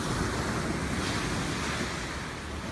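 Sea waves wash steadily onto a shore in Portugal, a continuous broadband rush heard close and fairly loud, mixed with wind buffeting the microphone, and no one talks.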